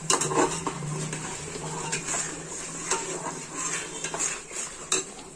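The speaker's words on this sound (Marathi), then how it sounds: "मसाला झाला आता परतून तेल सुटले मसाल्यानं मस्त" Masala sautéing in oil in a pan and being stirred with a metal spoon: a low continuous sizzle under repeated close scraping and clinking of utensil against the pan, with a few sharper knocks.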